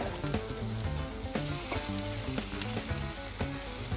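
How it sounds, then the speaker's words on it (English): Cherry tomatoes fry in a pan with a steady, close sizzle, punctuated by light irregular pops and faint tapping, with no voices. "push them on like that so that they start to fry all the way around"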